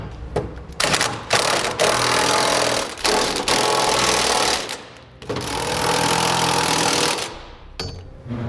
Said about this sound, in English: Now we'll take a 3/4 inch socket and begin tightening up the nuts on the carriage bolts